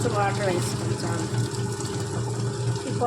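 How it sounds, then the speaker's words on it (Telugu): A little water poured onto soaked urad dal lentils in a grinder jar for jowar dosa batter, a steady close trickle with a low hum running under it. "కొంచెం వాటర్ వేసుకోండి చాలు"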